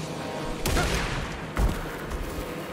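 Gunfire in the horror video game Alan Wake 2, two sharp bursts of shots, the second louder, over a dense, noisy game soundscape.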